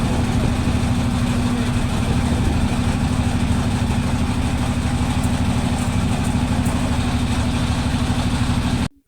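A boat engine drones steadily throughout a short lake ride at Foy's Lake, Chittagong, a loud continuous low hum with no talk over it, cutting off abruptly at the end.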